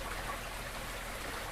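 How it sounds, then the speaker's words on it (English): A backyard koi and goldfish pond stream about 17 to 20 feet long flows steadily, a continuous soft trickling and burbling of water that stays even throughout with no talk. "There's actually a 17 or a 20-foot stream that is in there somewhere."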